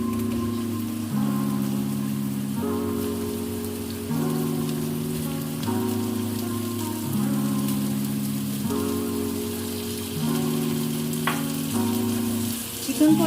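Chicken with onions frying in a pan for chicken macaroni, a steady close sizzle with regular rhythmic stirring pulses throughout, no voices.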